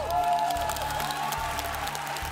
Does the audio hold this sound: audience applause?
yes